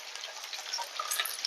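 Garlic, curry leaves and small shallots frying in hot oil, a steady close crackling sizzle with scattered tiny pops throughout, no voices.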